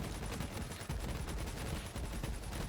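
The Warlord gun in the video game Borderlands 3 fires in a rapid automatic stream of loud, punchy shots. The shots run almost without a break, with one brief gap near the start.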